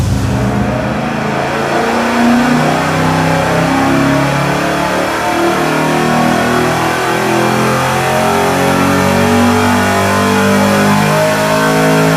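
A loud 600-horsepower engine on a dyno drones and revs steadily without pause, its deep exhaust note rising and falling slightly throughout.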